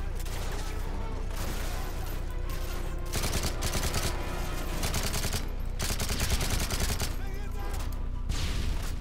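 Sustained enemy automatic gunfire in Call of Duty: Modern Warfare 3, dense rapid bursts rattling almost continuously with brief gaps, loud and close, with someone talking over the shooting.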